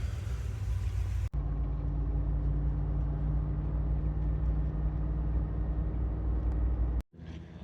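Pickup truck reversing while hauling vintage iron, a steady low engine rumble that holds evenly for several seconds, with sharp breaks at both ends.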